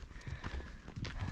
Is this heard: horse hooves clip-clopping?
yes